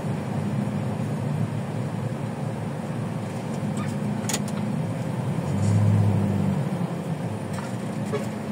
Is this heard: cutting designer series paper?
no